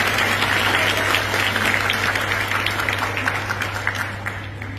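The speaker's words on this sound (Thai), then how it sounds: "ปรบมือให้พี่ๆของเราด้วยนะครับ" An audience at a youth camp event in Khon Kaen applauds steadily for several seconds, a dense, even wash of many hands clapping with a constant low hum underneath.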